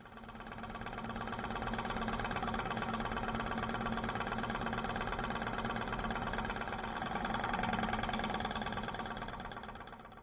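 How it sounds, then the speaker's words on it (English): A small laboratory Stirling engine with a heater wire on the hot end of its cylinder strains to lift a 350 gram load, giving a steady, continuous mechanical hum and whir that swells slightly near the end. "Here you can see the engine struggling to lift a heavier load of 350 grams."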